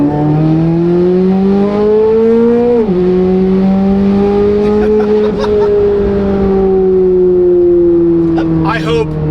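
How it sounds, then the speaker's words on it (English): A twin-turbo Corvette C8 Z06 accelerates at wide open throttle, a loud, steady engine drone climbing in pitch, dipping briefly at a shift, then rising again, with turbo whistle and hiss near the end. "I hope those turbo sounds are coming through on camera, because my God, does this thing sound phenomenal."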